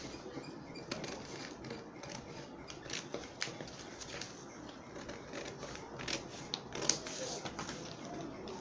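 Scissors cutting out a paper flare shape: quiet, irregular snips and rustling paper close by, with soft handling noise and faint background murmur.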